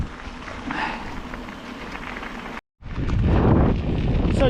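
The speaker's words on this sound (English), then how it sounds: "Wind is picking up as well." Wind gusts buffet the microphone during a mountain bike ride along a forest edge, a close, rough rumble with a brief dropout midway before the roar returns stronger.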